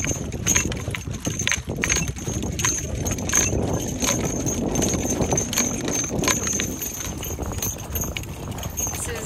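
Horses pulling a winter sleigh: a steady run of close hoof clip-clops with light jingling on top, while people talk over the ride.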